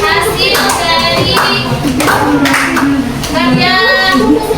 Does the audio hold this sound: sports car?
no